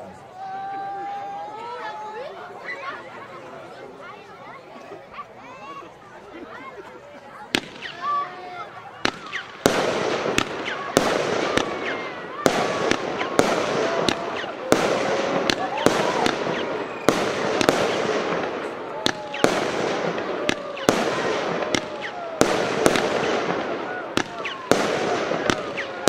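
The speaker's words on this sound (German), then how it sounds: "Eine 19-Schuss-Batterie der Firma Jordan." A 19-shot Jordan Imogene firework battery launches a string of loud, sharp bursts spaced a second or so apart, each with a crackling tail, after a quieter lead-in with background voices.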